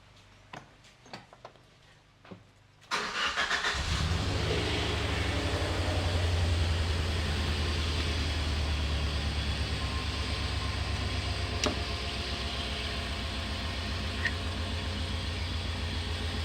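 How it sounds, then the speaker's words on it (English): After a few clicks a car engine cranks and catches with help from a JF.EGWO 6000A jump starter, then settles into a steady loud idle rumble that runs on alone. "it took me about 20 seconds to get the vehicle back up and running"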